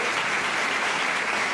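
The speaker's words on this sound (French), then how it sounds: "on peut applaudir, ouais, quand même" A studio audience applauds, a short, steady burst of clapping heard on its own.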